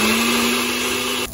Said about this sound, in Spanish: Y lo vamos a licuar muy bien.